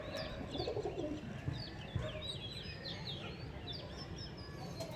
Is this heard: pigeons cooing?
yes